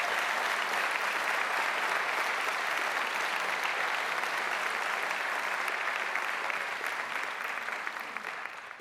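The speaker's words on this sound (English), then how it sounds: "let's give them a big round of applause" Sustained audience applause at a county government State of the County presentation, dense steady clapping from a large crowd filling the room, holding strong before tapering off toward the end.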